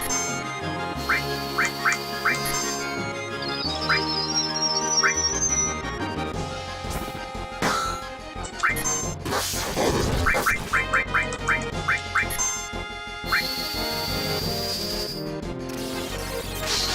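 Bird enemy quacking in the Final Fantasy VII video game, repeated short quacks over game music and battle effects, in bursts early on and again in a quick run near the end.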